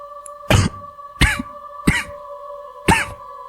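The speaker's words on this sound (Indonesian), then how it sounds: "Suara batuk itu muncul lagi, kini seperti benar-benar dekat" Four harsh, separate coughs spaced about a second apart, close and fairly loud over a steady low hum.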